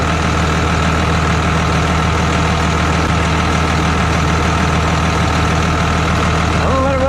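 A 12-valve Cummins diesel engine idles steadily up close, a constant loud, rough low rumble with an even knocking clatter and no pauses.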